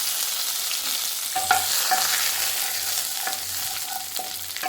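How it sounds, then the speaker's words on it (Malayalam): Mustard seeds, dried chillies and curry leaves crackle and sizzle in hot oil for a Kerala crab dish, a close, steady frying hiss broken by repeated scraping stirs. "എണ്ണ ചൂടായിട്ടുണ്ട് നമുക്ക് കടുക് ചേർത്ത് കൊടുക്കാം ഇതിലേക്ക് വറ്റൽമുളകും കറിവേപ്പിലയും കൂടെ ചേർത്ത് കൊടുക്കാം"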